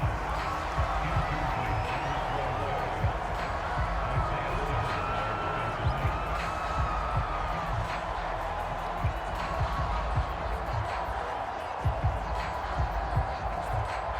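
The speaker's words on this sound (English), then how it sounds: "Crowd getting in it a bit already." A football stadium crowd at a Tucson Sandstorms at Oklahoma Spades game keeps up a continuous roar and cheer, with a commentator talking over the noise throughout.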